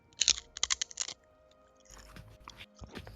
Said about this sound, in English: I'm sorry if you hear the crunch.